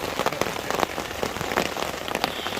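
Heavy rain pours down at a campsite, a dense, steady patter of drops drumming on a surface, loud and close with no voices.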